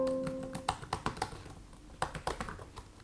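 Keys tapped on a Samsung Galaxy Book2 Pro 360 laptop keyboard, close and quiet, in two short bursts of rapid clicks separated by a brief pause.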